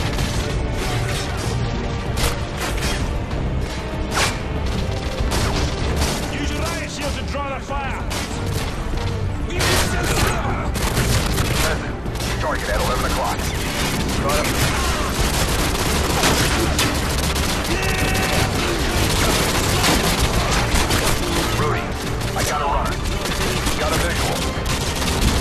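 Heavy continuous gunfire and explosions in the Call of Duty: Modern Warfare 2 campaign mission The Gulag, dense bursts and crashes filling the whole stretch, with some speech faintly under the combat.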